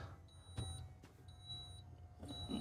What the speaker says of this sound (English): You hear that beeping almost every time you turn it on.